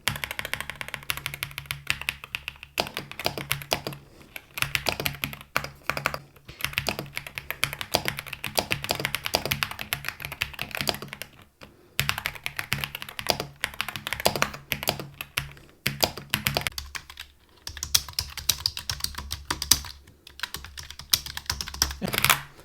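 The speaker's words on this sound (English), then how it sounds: "So these keyboards are much more like a clicky one, tactile keyboard." A budget mechanical keyboard with a clicky, tactile feel is typed on in fast, close, crisp bursts of clacking keystrokes, broken by short pauses.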